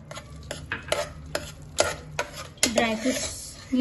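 A spoon stirs carrot halwa cooked in ghee with dry fruits added, giving a series of close scraping and clinking strokes against the pan at an irregular rhythm, with a soft sizzle underneath.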